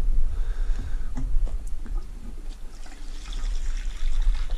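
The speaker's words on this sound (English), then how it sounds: "draining the majority of the wort" Homebrew wort drains into a water jug during the sparge, a steady close trickle and splash of liquid with a low hum beneath it.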